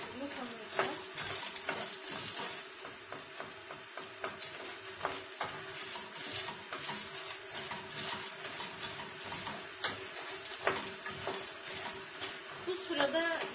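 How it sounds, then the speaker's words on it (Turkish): Pasta toasting in a pan with tomato sauce, a steady close sizzle and fry with frequent scraping stirs and light utensil clicks against the pan throughout. "Ondan sonra da makarnayı koyup kavuracağım."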